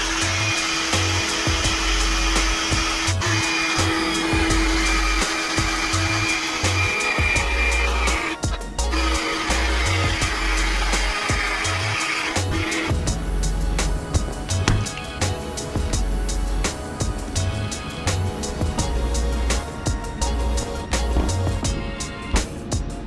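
A power tool cutting a notch into the plastic air dam of a Chevy Trailblazer, a loud continuous whine with the motor pitch rising and falling as the blade works through the plastic.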